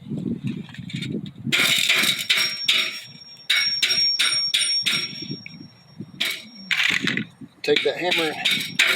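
Repeated sharp hammer blows drive black metal mobile home skirting into place, a loose run of close metallic strikes mixed with rattling, with someone talking in between.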